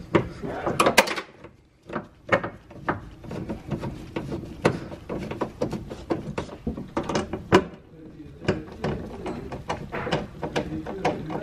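A ratchet ticks and clacks while 10mm bolts holding the window in a Nissan Sentra door are tightened, rapid close clicking in irregular bursts with rattles against the door panel.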